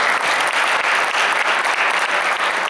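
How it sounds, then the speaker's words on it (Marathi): An audience at a stage performance bursts into dense, loud applause, with continuous clapping holding steady from start to finish. "जोरदार टाळ्या चेतन"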